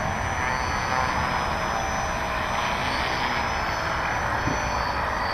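An Apprentice S 15e electric RC airplane taxis on-step across water at high speed, its motor and propeller giving a steady, loud whine with continuous wash beneath it throughout.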